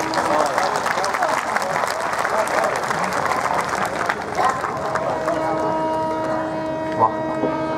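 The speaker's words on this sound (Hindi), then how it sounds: "आप लोगों की तालियां थोड़ी कम थी इतनी बढ़िया प्रस्तुति के लिए" A tent audience at a poetry and recitation gathering applauds a performance, a dense, steady wash of many hands clapping throughout, with a sustained tonal hum emerging beneath it in the latter half.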